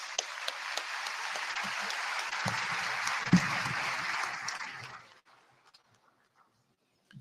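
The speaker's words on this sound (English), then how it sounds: "Another big round of applause for the Chief Director" Audience at a medical and dental practitioners' induction ceremony claps for the Chief Director, a full steady round of applause that holds for about five seconds, then quickly fades out to near silence.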